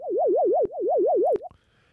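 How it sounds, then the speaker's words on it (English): A loud synth sine wave wobbles rapidly up and down in pitch, an LFO modulating it by semitones in a steady vibrato, briefly interrupted by clicks, then cuts off. "So there's this wobbly sort of like woo-woo-woo-woo-woo-woo-woo-woo thing going on."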